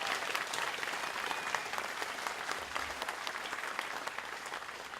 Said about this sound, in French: Applaudissez-les très fort.